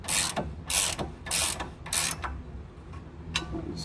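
Close ratchet clicks in four or five loud bursts while a nylon lock nut is snugged onto a 2017 Ford Transit during catalytic converter work, followed by fainter, scattered clicks.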